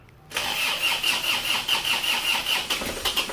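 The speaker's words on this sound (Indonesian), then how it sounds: "Kita starter." An Isuzu Panther Euro 2 diesel engine cranks and catches after a brief quiet moment, then settles into a steady, close idle with a rhythmic clatter and a faint squeal.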